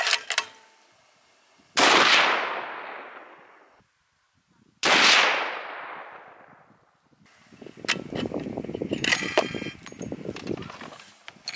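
Two loud, sharp .338 Lapua rifle shots crack a few seconds apart during scope sighting-in, each followed by a long decaying echo, then a stretch of softer clattering handling noise.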